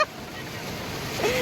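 Floodwater from the overflowing Veppur lake rushes in a steady, close broadband roar, with wind buffeting the microphone throughout.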